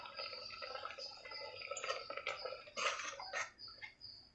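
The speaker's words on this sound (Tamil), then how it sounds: "மிக்சி ஜாரை கொஞ்சம் அலசி ஊற்றிடுங்க." Rinse water poured from a mixer-grinder jar that held a coconut, cumin and chili paste for a spinach dal, giving a close, trickling, splashing pour with drips that swell and fade over a few seconds.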